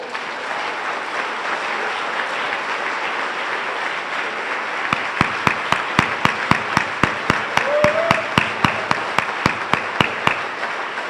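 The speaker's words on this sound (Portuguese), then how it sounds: "Se você crer, dê um aplauso ao Senhor." A church congregation breaks into steady, rhythmic clapping over a murmuring room, the claps even and sharp, lasting several seconds.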